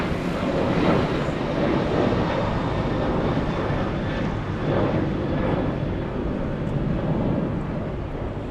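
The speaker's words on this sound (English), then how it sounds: "And the next takeoff, we have a United Airlines 737 flying to Denver." United Airlines Boeing 737-900 at LAX, a steady broadband jet engine roar holding loud and constant throughout with a distant rumbling texture, no talk over it.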